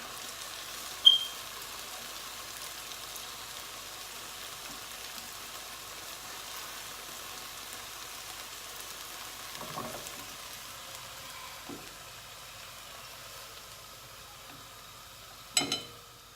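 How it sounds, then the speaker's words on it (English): Pork loin steaks frying in a pan, a faint, steady low sizzle running throughout, with a few brief clicks and clatters of utensils and no speech. "the pork has been cooking for a few minutes"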